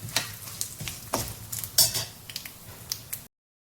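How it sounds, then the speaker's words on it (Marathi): Chopped coconut stirred and roasted in hot oil for a makhana chivda, with a steady sizzle and repeated scraping stirs of a spoon against the pan, close and fairly loud with no talking. "मस्त तेलामध्ये आपल्याला परतून घ्यायचं आहे, छानपैकी भाजून घ्यायचं आहे आपल्याला हे"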